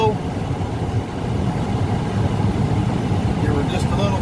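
A tractor engine idles steadily during a wheat harvest, a continuous close low rumble that rises slightly as the throttle is eased up.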